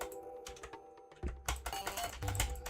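Quick computer mouse clicks made while building a card game, a scattered run of sharp, close taps in a quiet room, getting a little busier toward the end.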